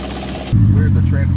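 Muffler-deleted Porsche Cayenne Turbo V8 engine drops a gear, jumping into a loud, deep droning rumble that continues close up after a brief quieter stretch, with a voice talking.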